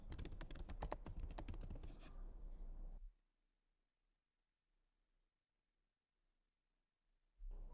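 Rapid, close clicking of keys on a computer keyboard for about three seconds, then silence, then a short burst of typing resumes at the very end.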